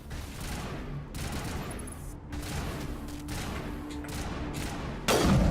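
Rapid gunfire in Mass Effect Legendary Edition, steady automatic bursts chattering over a combat soundscape, growing louder with a heavy blast at the end.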